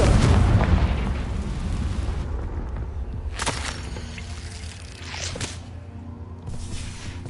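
A Confringo blasting spell goes off in Hogwarts Legacy, a deep booming explosion up front followed by rumbling debris and a few sharper bursts, loud and close.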